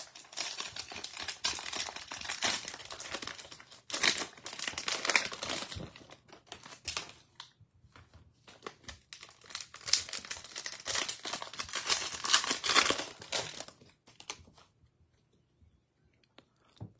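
A 2020-21 Mosaic basketball card pack being torn open and its cards handled, with bursts of close crinkling and ripping wrapper noise separated by short quiet gaps, fairly soft overall.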